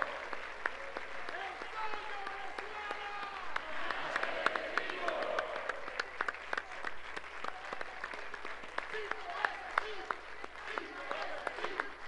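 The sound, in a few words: audience applause for ambassador Samuel Moncada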